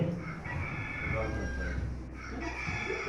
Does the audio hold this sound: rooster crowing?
yes